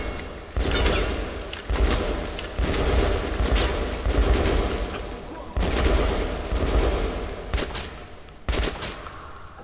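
Rapid bursts of gunfire and heavy thuds in Metro: Last Light, repeated in clusters with brief gaps, loud and close, typical of game combat audio.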